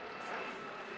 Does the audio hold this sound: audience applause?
no